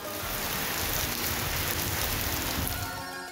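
Steady light drizzle falling in Karachi, a dense, even hiss of rain on surfaces, close and continuous throughout with no voices.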